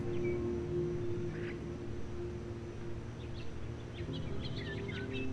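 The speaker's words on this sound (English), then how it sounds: "Combined with the bird sounds." Bird sounds in The Stanley Parable video game: faint, scattered chirps and tweets over a steady droning music bed, growing more frequent toward the end.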